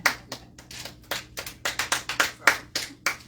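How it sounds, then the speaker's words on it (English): A small group clapping for a few seconds at a board meeting, uneven bursts of handclaps with no voices, fairly close and moderately loud. "Round of applause."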